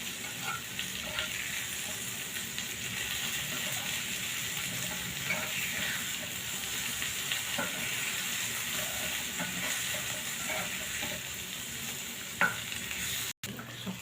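Frying food stirred in an uncovered pan, its lid just lifted: a steady, close sizzle with scraping stir strokes throughout, no voices.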